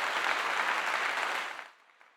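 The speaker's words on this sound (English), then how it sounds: "Hey, applause." A short burst of applause from a small group plays out evenly, then cuts off abruptly and leaves near silence at the end.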